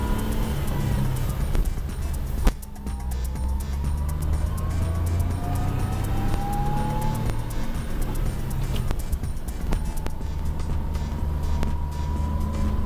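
A manual-transmission car drives on a road in Korea, its engine hum and road rumble continuous and fairly close, with a rising engine tone as it pulls through the gears and occasional faint clicks.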